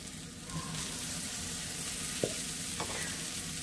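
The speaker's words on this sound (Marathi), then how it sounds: "आता आपण यामध्ये टोमॅटो टाकून घेऊया" Tomatoes fry in a pan for a restaurant-style matar paneer, a low steady sizzle broken by a few light scrapes and clinks of stirring, close and fairly quiet with no voices.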